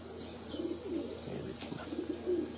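Breeder pigeons cooing softly at close range, low throaty coos repeating faintly over a quiet room background.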